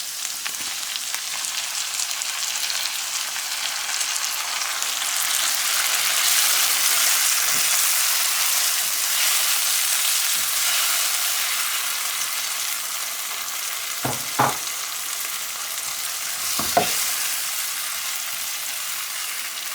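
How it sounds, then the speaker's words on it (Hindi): Tomatoes frying in a pan with ginger garlic paste for aloo gobi, giving a steady close sizzle with a few soft stirring knocks, no talk. "हमारा अदरक और लहसुन का पेस्ट फ्राई हो गया है। अब इसमें टमाटर डाल देते हैं।"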